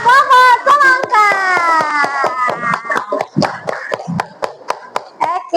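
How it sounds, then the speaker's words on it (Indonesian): Schoolchildren in a classroom clap for the watermelon group, sharp close claps in a quick uneven rhythm, with children's voices and chatter over the first half. "kita tepuk tangan untuk kelompok semangka"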